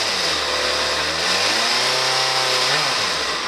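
A 2004 Yamaha FZ6 motorcycle engine revs up and eases back from idle, the pitch climbing and falling in smooth sweeps under steady close mechanical noise, with no talking.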